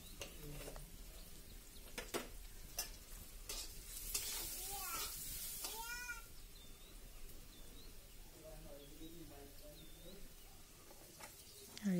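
Fish belly frying with green chillies in a pan gives a steady close sizzle throughout, with occasional stirring scrapes and clinks of utensil against the pan, and faint bird chirps in the background.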